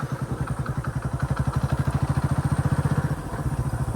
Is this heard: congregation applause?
no